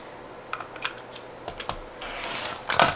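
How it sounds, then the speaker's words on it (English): Scissors trimming pieces of vinyl fabric for a zipper pouch, a few quiet snips and rustles that come denser and louder toward the end, with no talking. "I'm going to just flip this over and trim this one."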